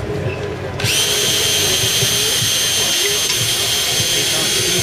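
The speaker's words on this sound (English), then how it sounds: "Particular speed on your sanding?" A power sander running wide open on a plastic headlight, starting up after a brief moment and then whining steadily at a loud, even level, with people talking under the noise.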